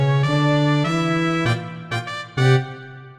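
A sustained orchestral brass-like motif, the Flame Reaver theme from Honkai: Star Rail, swells in held chords, then ends with short punchy stabs and a final accented chord.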